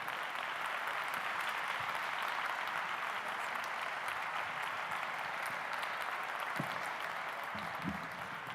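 An audience applauds at a Spanish 2018 gala for a singer and former Operación Triunfo contestant, producing sustained, dense clapping that stays even throughout with no voices over it.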